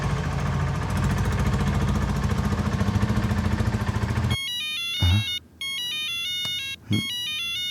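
A mobile phone ringtone plays a bright repeating electronic melody, loud and close, following a rumbling engine-like drone that cuts off abruptly.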